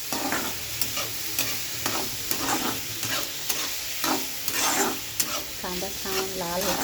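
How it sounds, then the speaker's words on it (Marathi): Onion and tomato sizzle and fry in a pan while a spoon stirs them with repeated scraping strokes, close by and steady, for an egg bhurji. "कांदा टमाटर घातलं, छान जरा हलवून द्यायचं"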